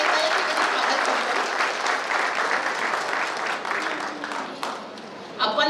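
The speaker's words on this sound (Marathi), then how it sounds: "सर्व मान्यवरांसाठी टाळ्या वाजून आपण त्यांचं पुन्हा एकदा या ठिकाणी स्वागत करतो" Applause from the audience at a Marathi poetry book launch honouring the guests, a dense, continuous clapping from a roomful of people that thins and fades near the end.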